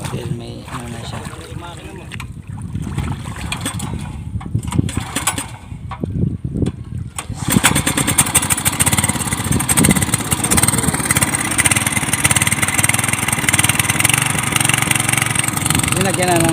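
Farm water pump engine running steadily with a constant droning hum, loud and close, while voices talk over it intermittently.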